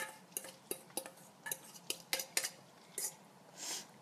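Eggs being whisked with spices, chopped onions and chilies for a spicy Indian omelette, a run of sharp, irregular clinks of a utensil against the bowl, close and fairly quiet.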